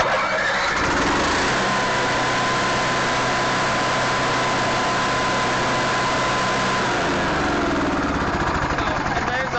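An RV generator starting up from its outside start control, catching and running as a loud, steady engine drone close by with no talk over it.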